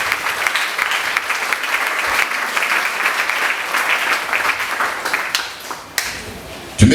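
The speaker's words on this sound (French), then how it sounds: "Acclamez au Seigneur." A church congregation applauds and cheers for the Lord in a dense, sustained wash of clapping that stays loud throughout, then thins briefly near the end before a final burst.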